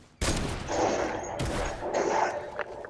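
Sniper rifle fire in the video game Fortnite: two loud, close cracks about a second apart, each trailing a short ringing echo, with no talk over them.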